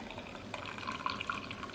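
Chai pours through a small strainer into a cup, a soft, steady trickle of liquid with faint splashes, quiet and close with no talk.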